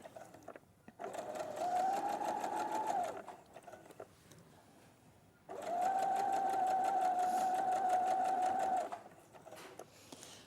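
A sewing machine stitches a blouse seam in two sustained runs, a close, loud, even mechanical whir with a steady pitch, separated by a short quieter pause.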